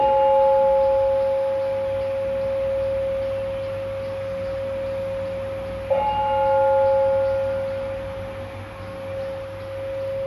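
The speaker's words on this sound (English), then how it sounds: "that's the temple bell, by the way." A steady, sustained temple bell tone hums with a long even ring, and a second soft strike near the end adds brighter overtones over quiet room noise.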